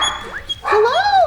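A pet dog in a home studio gives close, loud barks and yelping whines, with one quick yip followed by a longer rising-and-falling howling bark.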